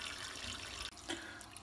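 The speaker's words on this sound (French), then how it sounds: "Vous remplissez aussi les bocaux d'eau chaude du robinet." Hot water pouring from a kitchen tap into glass jars, a close continuous splashing stream with a brief break partway through.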